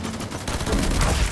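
Rapid bursts of gunfire from the mobile battle royale game Farlight 84, loud and dense across the whole stretch, with no talk over it.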